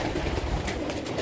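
Pigeons coo softly in a loft, a low, continuous murmuring burble over steady background noise.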